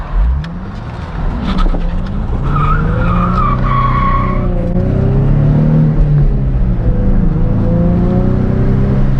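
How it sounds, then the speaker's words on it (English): Tires skid and scrub on a wet backroad as a stock Nissan 350z drifts, the engine droning steadily underneath throughout, loud and close with no talking. "See if we can do a little bit of a drift."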